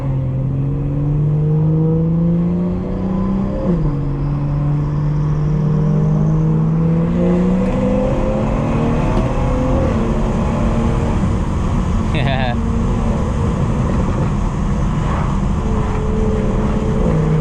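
BMW 440i engine in cold weather revving hard, a loud, sustained growl with rising and falling pitch sweeps across the whole stretch, with a brief sharp mechanical chirp partway through.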